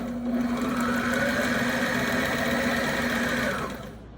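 A sewing machine stitches paddle board fabric in one steady, close mechanical hum with rapid needle chatter, then slows and fades at the end.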